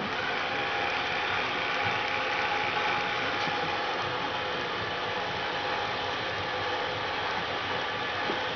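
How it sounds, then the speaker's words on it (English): A decapsulation milling machine runs with tool and table speed both set to 3, giving a continuous dense mechanical whir and grinding hum, steady and close throughout with no talk. "Set the tool speed to 3, and the table speed to 3 as well,"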